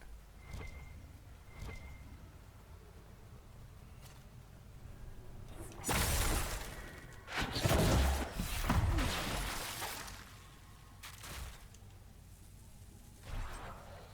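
Explosion in Dragon Age Inquisition, a loud broadband burst around the middle with a second, longer rumbling blast right after, then trailing debris-like crackles and quieter game ambience.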